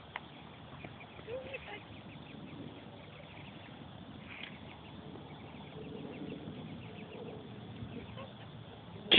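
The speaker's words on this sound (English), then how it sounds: "Scaring the duckies." Small ducks quack softly amid steady outdoor background noise, their calls faint and scattered across the scene.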